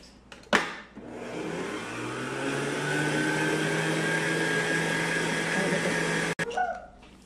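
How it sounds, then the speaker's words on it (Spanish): An electric hand mixer briefly blends whipped cream into a dessert mixture, starting with a clunk, then whirring at a steady, loud, close drone for several seconds before stopping. "pero este nada más lo vamos a mezclar ligeramente con nuestra batidora para evitar que la mezcla se corte"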